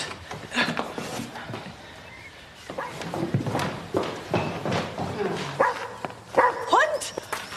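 A dog barks several times in sharp bursts amid indoor commotion, footsteps and people talking, with a few yips and whimpers mixed in.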